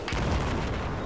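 Gunfire in a Battlefield 4 online Conquest match on the Zavod 311 map, a dense, loud rumbling burst of overlapping shots and booms filling the whole brief moment.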